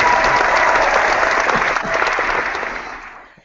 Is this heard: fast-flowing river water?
no